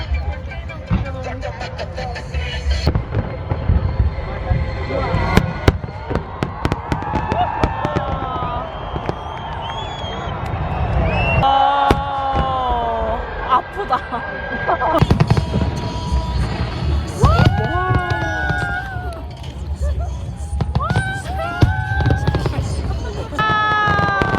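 Fireworks burst overhead at the Honda fireworks festival in Vancouver, with loud, irregular booms and crackling volleys repeating throughout, while a crowd chatters and several people talk and exclaim nearby.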